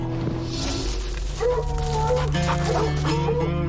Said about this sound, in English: Dogs start sounding off